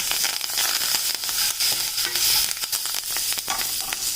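Dried red chillies and curry leaves sautéing in hot coconut oil for a buttermilk kuzhambu, a steady close crackle and sizzle with scraping stirs throughout, no voices.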